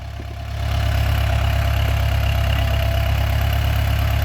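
An old farm tractor's engine rumbles up after a brief quieter moment and then runs at a steady, loud, close idle, with no voices.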